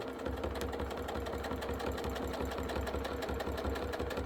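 A sewing machine runs steadily for quilting, a fast, even mechanical chatter of needle strokes at moderate volume with no voices.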